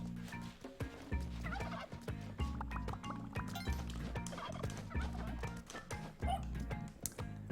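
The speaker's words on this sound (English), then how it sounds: "Alright, turkey. Multiple turkeys." Turkeys in the Spelunky 2 video game gobble over and over in rapid rattling bursts, set against a steady low game music bed, faint and game-like throughout.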